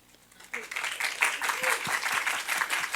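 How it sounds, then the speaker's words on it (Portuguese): Audience applause at the close of a talk on an AI simulation of a black hole, rising after a quiet start into steady clapping from a room full of people that carries on to the end. "Nem precisou pedir por palmas, né?"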